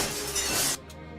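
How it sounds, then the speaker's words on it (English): Glass-breaking sound effect: a single bright shattering crash lasting under a second, followed by a quieter tail of tinkling fragments. "I got a glass breaking sound effect"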